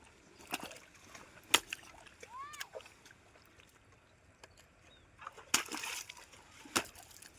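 Water splashing during work with mud, scattered sharp splashes and slops up close, with voices talking in between.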